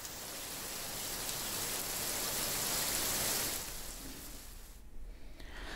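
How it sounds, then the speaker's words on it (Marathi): Heavy continuous rain in Ambarnath falls as a dense, steady hiss that swells through the first seconds, then eases slightly toward the end, with no voices. "सलग दुसऱ्या दिवशी अंबरनाथ शहरामध्ये पावसाचा जोर कायम असल्याचं पाहायला मिळालं"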